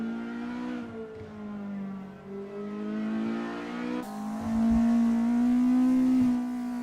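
GTi race cars in the SRA 2025 GTi Challenge roar past with sustained, rising engine notes and shifting pitch, loud and close throughout, a second car surging in louder toward the end.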